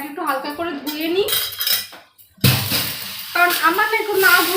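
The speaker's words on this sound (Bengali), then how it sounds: "চলো কড়াইটা একটু হালকা করে ধুয়ে নিই," A kadai (wok) being rinsed and handled, with loud clanking and scraping of metal utensils and cookware, close by and continuous, with a voice heard over the clatter.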